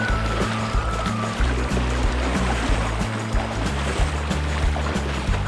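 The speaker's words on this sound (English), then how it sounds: "Canoe down the rapids by himself" River rapids on the Buffalo River rush and churn beneath a canoe, a loud, steady wash of water with low rumbling, and no voices.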